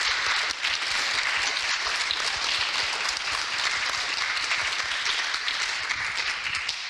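Sustained audience applause at a panel discussion, a dense steady roar of many hands clapping that fills the room at an even level for the whole stretch with no pauses.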